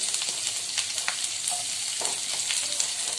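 Chopped onion frying in butter with a bay leaf in a pan on a gas stove, a steady close sizzle with faint crackles and occasional stirring scrapes throughout.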